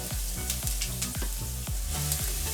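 Onion hits a hot pan for a chicken sandwich filling, frying with a steady sizzle punctuated by regular clanks and scrapes of a spatula stirring, close and continuous with no voices.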